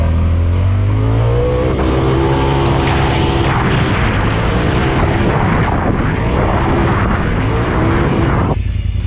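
A Polaris RZR Pro XP off-road vehicle engine revving loudly and close, a continuous roaring drone with rising and falling pitch sweeps, dropping off sharply at the end, no voices.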